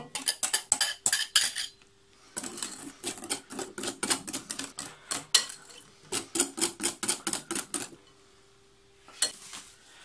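Ingredients for a Normandy apple tart are mixed in a bowl: fast, repeated clinking and scraping of a utensil against the bowl in bursts, with brief pauses, close and fairly quiet, no voices.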